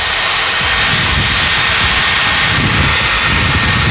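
Dyson Airwrap blowing air held close to the microphone: a loud, constant rushing hiss of airflow that never lets up, alone without voices.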